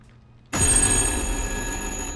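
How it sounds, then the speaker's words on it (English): A telephone bursts into loud, sustained ringing after a brief quiet moment in the video game Little Hope, its bright tone continuing to the end. "Why is the phone ringing?"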